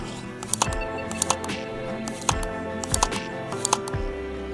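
A Thomas Day Twickenham camera shutter from England is worked by hand, giving a series of small, crisp mechanical clicks and ticks scattered over a steady low background hum.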